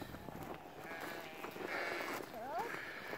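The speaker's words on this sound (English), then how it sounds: "And the sheep come running." Sheep bleating on a snowy farm as the flock comes running, a few wavering bleats partly mixed under someone talking, soft and moderately distant with faint footfall movement.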